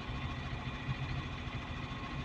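Caterpillar 950H loader engine running steadily during an injector test for low power, a close, constant idling drone with even vibration and no talking.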